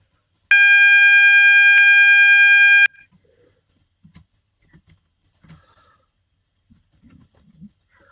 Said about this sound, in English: You can have a horn. This might be loud.